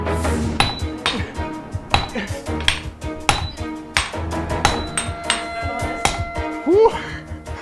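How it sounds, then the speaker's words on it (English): Heavy hammers and mallets strike steel on an anvil, shaping a sword blade, in an irregular run of loud metallic blows with bright ringing overtones, one smaller hammer setting the rhythm among bigger mallet strikes, close and sustained throughout. "the apprentices would use big mallets to flatten the steel"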